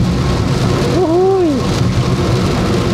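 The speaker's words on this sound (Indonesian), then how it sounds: "akhirnya hujan juga nih" Rain drums steadily on a moving Daihatsu Ayla during a Sumatra road trip. The loud, dense wash of drops and road noise fills the cabin, and a brief rising tone sounds partway through.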